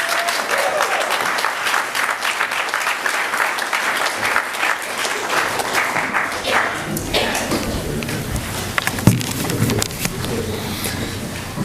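Audience applause for speaker Noah Phillips at an event on reforming the prosecution system, a loud dense clapping that thins out in its second half, with a few louder claps and knocks near the end.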